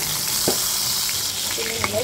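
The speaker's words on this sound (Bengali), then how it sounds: "মাছটা ভাজা হয়ে গেছে" Small river boal fish frying in oil gives a steady, close, bright sizzle throughout, with a few faint clicks of utensils.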